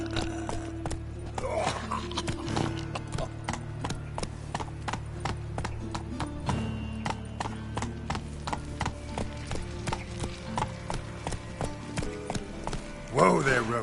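Hooves of the horse Roach clip-clop in steady rhythm on hard ground in The Witcher 3, close and prominent, with musical tones and a brief whinny-like burst near the end, talk around it.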